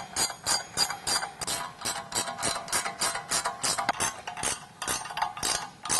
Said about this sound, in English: we're going to go ahead and tighten all four of these screws also using the